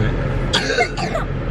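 A dog gives two short, rough coughs a moment apart, close by, over a low steady background hum.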